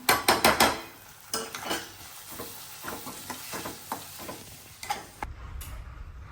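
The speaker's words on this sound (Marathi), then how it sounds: "टमाटे फ्राय झाला आता लाल मिरची आणि हळद टाकून घेते" Tomatoes fry in a pan as red chilli and turmeric are added, opening with a few sharp metallic knocks of a spoon on the pan, then a soft sizzle with scattered light scrapes and taps, close by.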